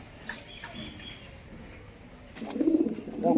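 Bukhara pigeons, a red male and a white female, give soft low cooing calls, close by, building toward the end over faint background noise.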